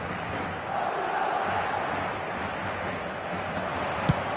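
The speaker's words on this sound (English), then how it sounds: "Maybe the crowd will stay a little quieter next time." Football stadium crowd cheering, a broad continuous roar of many voices, steady and fairly loud with no single voice standing out.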